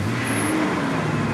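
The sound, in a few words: car engine revving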